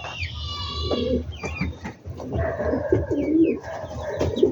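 Pigeons coo repeatedly in low, throaty calls close by, with higher bird chirps scattered over an outdoor backdrop and no talking.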